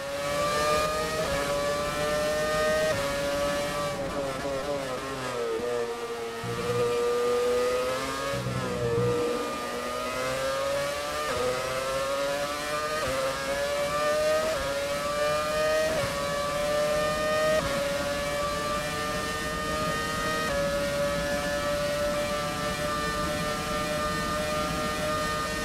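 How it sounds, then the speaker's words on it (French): Onboard engine sound of a McLaren Mercedes F1 car in the F1 2017 game: a loud, high-pitched engine howls and rises through the gears, dips sharply under braking around the corners, then climbs again at full throttle. "je vous laisse profiter un petit peu du son de cette voiture en caméra on-board"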